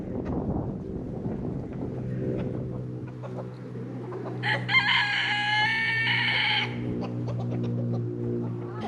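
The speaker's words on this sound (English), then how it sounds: "there's a rooster like right next to me" A rooster crows nearby outdoors, one drawn-out call rising over steady wind noise on the microphone, with scattered clucks and rustling before it.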